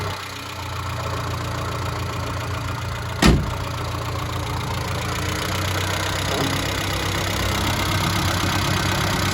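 A car engine starts with a sharp crank-and-catch burst, then settles into a steady, even idle that runs on alone, heard right after a fresh timing belt was fitted with the valve cover back on.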